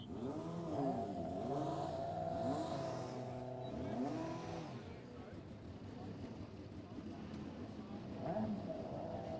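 A Formula SAE electric race car (RMIT E88) on an acceleration run, its motor whine rising and falling in pitch through repeated sweeps, loud at first and then fading into a steady distant hum, with people talking throughout.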